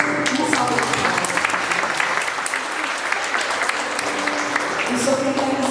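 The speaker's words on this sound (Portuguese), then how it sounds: "Uma salva de palmas." Enthusiastic audience applause at a church sermon, loud and steady across the whole stretch, with voices audible beneath the clapping.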